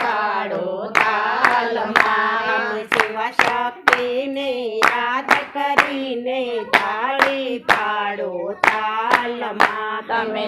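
Steady rhythmic hand clapping keeps time with a devotional Shiva Shakti bhajan. Sharp, evenly spaced claps sound close and loud over continuous singing.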